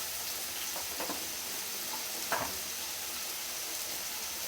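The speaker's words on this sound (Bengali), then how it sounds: "একটুখানি মরিচের গুঁড়া দিয়ে মশলাটা সুন্দর করে কষিয়ে নেব আলুর সঙ্গে" Spice paste with turmeric, salt and chili powder frying with potatoes in a pan for a Bengali fish curry, a steady soft sizzle with a few faint stirring scrapes, close and fairly quiet.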